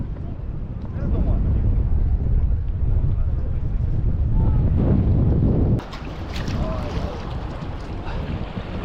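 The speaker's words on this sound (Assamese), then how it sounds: "ধুনীয়া বতাহ মাৰি আছে" Strong wind at the confluence of two rivers in Ladakh buffets the microphone with a loud, continuous roar and rumble, easing slightly toward the end.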